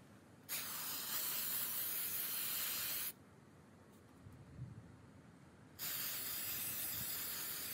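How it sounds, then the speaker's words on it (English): An aerosol can sprays outdoors in two long hissing bursts separated by a quiet pause, each burst steady and close, ending as the next one starts. "I'm going to take this outside and spray."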